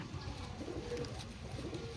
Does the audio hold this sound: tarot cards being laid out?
no